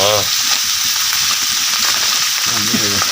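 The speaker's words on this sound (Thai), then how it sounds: "เมนูนะครับผัดกบครับ" Frog meat stir-fried in a pan over a rural home fire gives a loud, continuous sizzle with faint stirring underneath, and voices briefly talk at the start and end.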